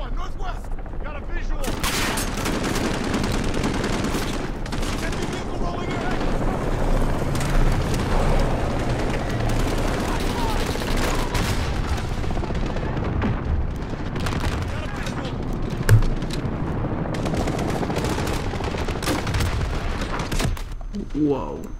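Sniper fire and other gunshots crack through a Call of Duty: Modern Warfare match, a nearly continuous barrage of loud, close shots and booms lasting about twenty seconds. A player's voice is heard intermittently under the shooting.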